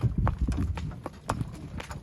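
An eight-year-old isabelline mare, in foal and being shown for sale, walks on hard ground, her hooves striking in an uneven clip-clop close by, with faint voices in the background.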